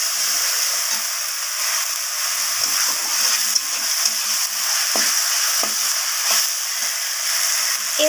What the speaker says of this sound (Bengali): আদা রসুন আর পেঁয়াজ টমেটো ক্যাপসিকাম সব কিছুকে ভালোভাবে এইভাবে কষিয়ে নেব